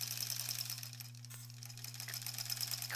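A sewing machine stitches granny square quilt pieces in a quiet, steady whir that dips briefly midway and then resumes, close up with no talking.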